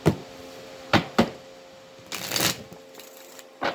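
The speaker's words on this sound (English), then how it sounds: "let's do the healing cards here. We'll use a pair of tarot." Tarot cards being shuffled by hand in a few quick riffling bursts, close and crisp, separated by short pauses with no talking.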